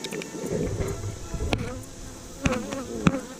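Darker honeybees buzz continuously at a rescue hive, close and steady, with a few brief louder passes as individual bees fly near.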